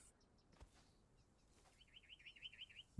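Birds in the game Conan Exiles chirp faintly near a nest, with a few soft scattered calls early on, then a quick repeated trill of high twittering notes toward the end, ending in a low thump.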